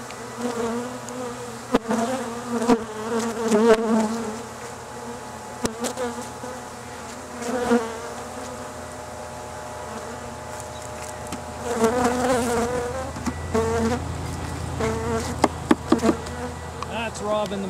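Honey bees buzz during a honey harvest from an aggressive colony, swelling and fading as individual bees fly close past, with several loud passes and occasional knocks of hive equipment.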